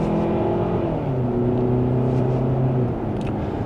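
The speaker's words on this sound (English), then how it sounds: "we can easily get up to speed" A 2026 Kia Sportage X Pro Prestige in sport mode accelerates from second gear, its engine note climbing steadily and loud inside the cabin, with a gear change partway through and no talking.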